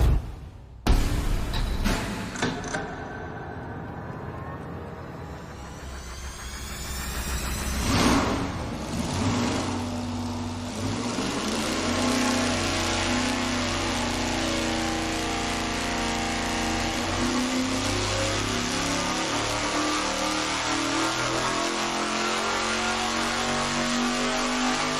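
A supercharged big-block Chevy V8 runs a full dyno pull from about 3,500 to 6,500 rpm, roaring loud and close with a steadily climbing, sustained engine note and no talk over it.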